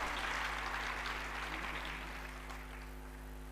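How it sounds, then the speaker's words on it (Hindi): Weak applause from an audience at a Ramayana discourse: scattered, thin clapping that starts modestly and fades away over a few seconds, set against a steady low hum. "तालियां कमजोर है"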